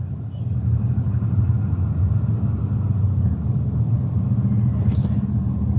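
A manual-transmission car, stationary in city traffic, idles in a low, steady rumble, close and constant, with no talking.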